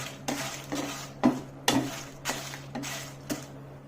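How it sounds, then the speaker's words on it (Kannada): Ajwain, fenugreek and mustard seeds dry roasting in a pan, with a spoon scraping and stirring in repeated strokes roughly every half second over a steady low hum, fairly close and with no voices. "ಒಳ್ಳೆ ಪರಿಮಳ ಬರೋ ತನಕ ಚೆನ್ನಾಗಿ ಹುರ್ಕೊಳ್ಬೇಕು."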